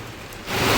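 Heavy rain in Siddhpur pours down as a broad hiss that swells sharply halfway through, dense and close, with no voices.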